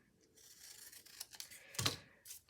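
Scissors cut through paper along a line in a few short, soft snipping and rasping strokes, close and quiet with no talk.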